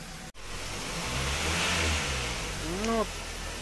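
A Kia Cerato engine is held at about 2000-2500 rpm during an injector flush, giving a steady close mid-pitched drone that swells slightly, ending with a brief rising whine near the end.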